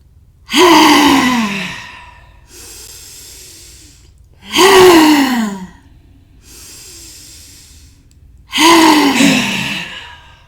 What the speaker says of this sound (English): Inhale in, ha out 3 times, and then pause